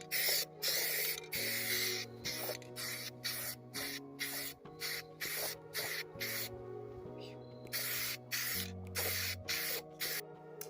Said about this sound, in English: But just spraying some more.